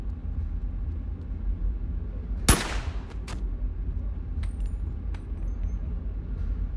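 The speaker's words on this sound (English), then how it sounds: "Four shots." Single loud gunshot from the VR game Boneworks, a sharp crack followed by a quieter second report, set over a steady low rumble of game ambience with a few faint clicks afterward.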